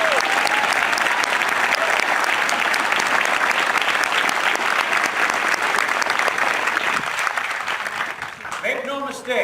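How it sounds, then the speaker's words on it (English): A large audience at an Air Force basic military training graduation breaks into loud, sustained applause, a dense wash of clapping that keeps going and then starts to thin near the end, with a voice coming in over it. "Let's give them a round of applause."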